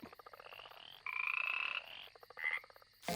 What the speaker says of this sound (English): It's just some absolutely harmless frogs.